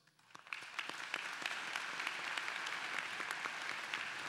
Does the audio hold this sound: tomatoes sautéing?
no